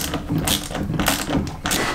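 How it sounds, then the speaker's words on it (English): A socket wrench tightens a battery cable terminal in a small solar kit setup, giving a quick run of close mechanical clicks and ratcheting taps over about two seconds. "I've got a socket wrench here to tighten it down."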